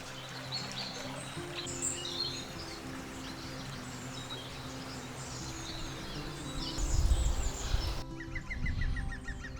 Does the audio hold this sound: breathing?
no